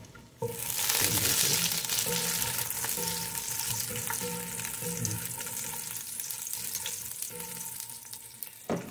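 Ginger sizzles loudly as it hits a hot pan for a sautéed mung bean dish, a sudden onset of frying that stays steady, with occasional stirring.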